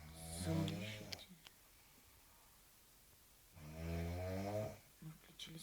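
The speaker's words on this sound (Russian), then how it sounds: "Наш храпун, как храпел, так и храпел." A person snores loudly and close by, two long rasping breaths with a quiet gap between them, deep and harsh.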